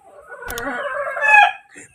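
A backyard chicken clucks and calls up close in a short burst, with a sharp tapping near the start and a brief squawk at the end.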